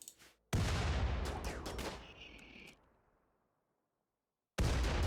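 Grenade blasts in the RimWorld video game: a loud broadband explosion with a few sharp crackling bursts, decaying over about two seconds into silence, then another loud blast begins at the end.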